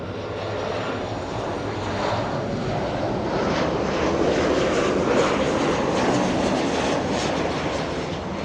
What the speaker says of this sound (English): a 737 Delta.